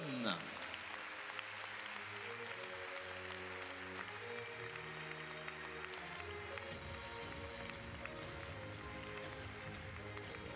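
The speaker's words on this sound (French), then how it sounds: "Je vous demande, s'il vous plaît, d'accueillir avec vos applaudissements" Clapping from the audience at the prize ceremony of the Super As Poney Elite by Flex-On Grand Prix Excellence international pony show jumping, a steady patter under loud music with a voice over the loudspeaker.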